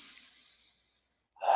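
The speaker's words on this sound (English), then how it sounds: "Will you take a deep breath with me?" A single person breathes close up: a soft, trailing exhale fades to near silence, then a sharp, loud deep inhale begins at the end.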